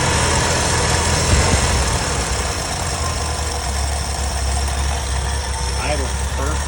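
A 1979 Ford service truck engine running at a steady high idle, a loud continuous low rumble with slight knocking, close up, with a brief voice over it.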